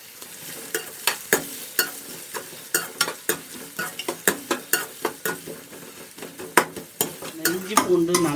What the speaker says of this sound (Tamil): இப்போ வெங்காயத்தை சேர்த்துறேன்.